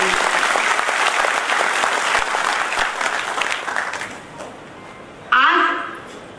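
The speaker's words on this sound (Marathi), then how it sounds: "मी म्हणते त्यांना मानाचा मुजरा सगळ्यांनी कडाडून टाळ्या वाजवून द्यावा" An audience at a zero budget natural farming workshop in Nagpur breaks into loud, sustained applause that gradually thins and fades, followed by a brief bump and rustle near the end.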